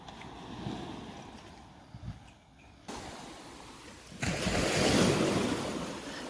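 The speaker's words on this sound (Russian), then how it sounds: "Только волны бьются." Sea waves wash and break nearby, building to a louder rushing surge, with some wind buffeting the microphone and no talk.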